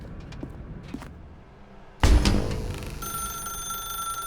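Telephone ringing in the video game The Stanley Parable: after a thump, a bright electronic ring starts and holds steady with sharp tones, fairly loud and close, with no talk over it.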